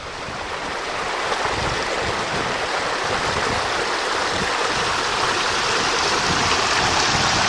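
A mountain stream fed by melting snow near the White Corries ski area in Glen Coe rushes in a steady, loud, broadband roar, close by and continuous with no talk.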